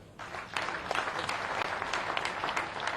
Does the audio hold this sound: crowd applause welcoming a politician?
yes